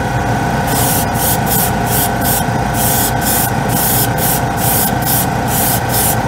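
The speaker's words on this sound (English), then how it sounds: "The airbrush is nice." An airbrush sprays white paint onto a plastic scale model in a steady, loud close-up hiss, broken by brief regular pauses in the spray as the trigger is worked.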